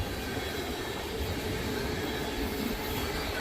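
Freight train passing close by with container cars, some carrying hazmat plaques, giving a steady loud rumble and rolling wheel noise with faint squeal, continuous throughout.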